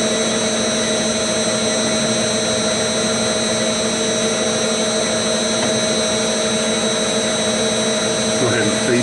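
Steel part being faced off on a lathe, a loud, steady machining drone with constant tonal whine and hum running the whole time without pause.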